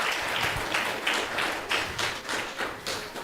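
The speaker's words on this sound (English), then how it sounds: "A big round of applause for Prabhu." An audience applauds after a Sunday feast class at a Hare Krishna temple, with a steady run of clapping and a few louder, rhythmic bursts of claps over about three seconds.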